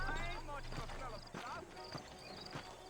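Horse hooves clop steadily in Red Dead Redemption, a quiet galloping rhythm running beneath someone talking and other game sounds.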